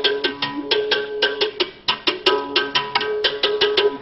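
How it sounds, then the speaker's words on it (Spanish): A berimbau played in a steady, quick rhythm of twangy struck tones with buzzy metallic attacks, close and clear, with no one speaking. "Tenemos acá ahora ya un berimbau y este suena así."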